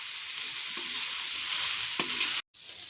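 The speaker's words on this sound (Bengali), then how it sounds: "এবার এটাকে খুব ভালো করে আমরা ভাজবো" Vegetable momo filling fries in a pan with a constant close sizzle and a couple of stirring scrapes, and the sound briefly drops out before resuming.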